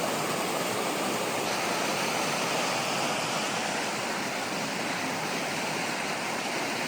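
A mountain river rushes alongside a mossy trail near Lake O'Hara in Canada, a steady, loud broadband roar of flowing water that continues without a break and carries no voices.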